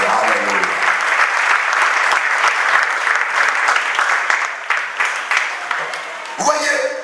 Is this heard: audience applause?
yes